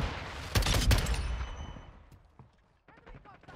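Gunfire from a one-shot headshot weapon in a Call of Duty: Modern Warfare 2 match: a loud cluster of sharp shots early on, then fainter scattered game sounds trailing off.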